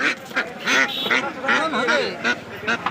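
Ducks at a busy poultry market in Kankan Haat, Rajshahi, quack in repeated loud, nasal calls close by, overlapping one another in a lively chorus.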